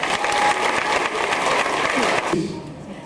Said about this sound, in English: let's give her a round of applause, please.